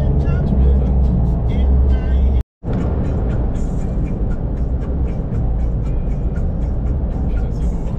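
A car cruises along a paved highway on a southern African road trip, producing a constant loud rumble of road and engine noise inside the cabin, with a brief dropout before the steady drone resumes.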